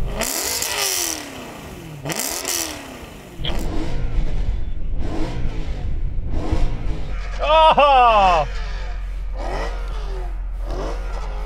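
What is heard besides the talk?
BMW naturally aspirated V8 engine accelerating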